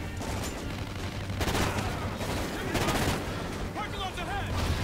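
Rapid gunfire in the video game Call of Duty: Ghosts, dense bursts of shots and blasts running continuously at close range, with voices mixed into the action.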